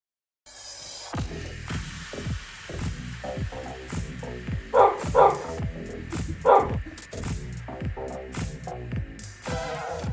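A dog barks repeatedly in a steady run of loud, close woofs over a low throbbing hum, with a few stronger bursts partway through.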